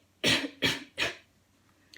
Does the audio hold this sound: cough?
yes